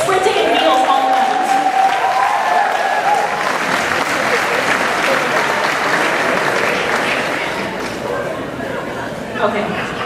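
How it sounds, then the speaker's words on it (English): A gala crowd bursts into loud, sustained applause, dense clapping mixed with cheers and chatter that gradually tapers off near the end. "can you guys give a round of applause to the people of Echelon?"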